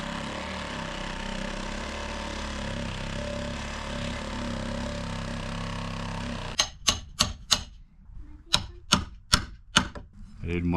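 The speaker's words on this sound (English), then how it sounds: "I didn't want to go get a chisel, so I'm using my pry bar" Sharp metal knocks of a pry bar driven into deck material in place of a chisel, about eight loud, evenly spaced blows in the closing seconds after a steady machine-like hum.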